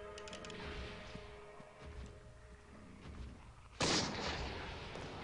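Gunshots in Eternal Darkness, a few scattered shots followed by a sudden loud blast with a decaying echo near the end.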